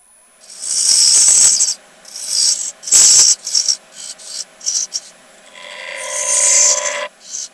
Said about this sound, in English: When the gouge goes in like so, you might get a catch here on the inside otherwise.